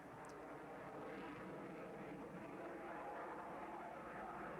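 Aircraft engine roar from an F-16 fighter jet performing at the Farnborough airshow in 1994, a steady, moderately distant broadband rumble sustained throughout with faint background voices.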